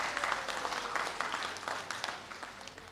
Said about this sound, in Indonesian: Mari tepuk tangan pada orang di kiri kanan Anda.